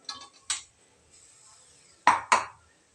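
A spoon scraping and knocking against a mixer jar while transferring roasted brinjal bharit, four short metallic clinks in two pairs with quiet pauses between.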